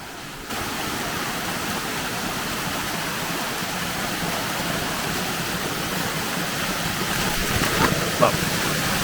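A waterfall cascades down rocks on a North Carolina mountain hike, giving off a loud, steady, close rushing roar that starts abruptly and continues unbroken.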